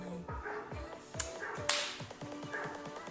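Dogs bark repeatedly indoors in a quick, uneven series of sharp yaps at moderate distance, alongside a voice and a few small taps.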